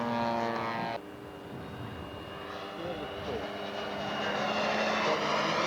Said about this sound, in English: the German P-47 is coming in